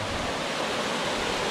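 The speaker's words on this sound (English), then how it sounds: "But here we have a waterfall." Salto Santa Clara waterfall in Yauco, Puerto Rico, a dense, steady roar of falling water filling the whole range, close and constant with no gaps.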